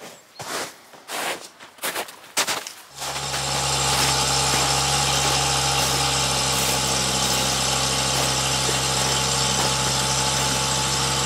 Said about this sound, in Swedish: Det låter som att det är något avgasläckage